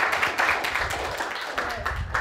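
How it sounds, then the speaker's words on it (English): Brief, close crowd applause in a comedy show for an Italian translator called up on stage, a dense wash of claps throughout two seconds. "A round of applause for Sylvia"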